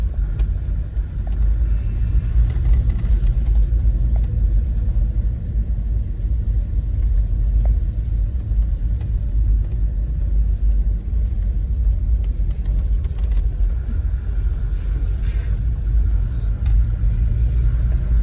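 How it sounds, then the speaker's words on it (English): A Land Rover in low range grinds along a rutted, hilly off-road track, its deep engine rumble steady and close throughout, with occasional knocks and rattles from the vehicle. "So we're in our Land Rover now"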